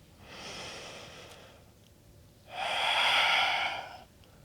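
Two deep breaths during a vinyasa yoga practice, a softer inhale followed after a pause by a longer, louder exhale, close and alone with no speech.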